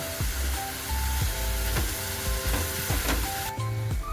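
Spice masala of chilli powder and turmeric frying in hot oil for an egg curry, a loud steady sizzle with regular scraping stir strokes and a few clinks of the spoon against the pan.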